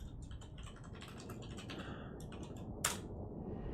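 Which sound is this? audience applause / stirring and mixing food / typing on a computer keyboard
typing on a computer keyboard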